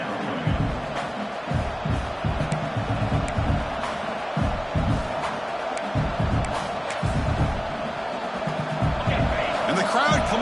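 A stadium crowd roars steadily in a college football video game, a 2025 CUSA Championship between UTEP and Louisiana Tech, as the home defense plays in the red zone, the noise continuous and swelling slightly while a commentator talks over it.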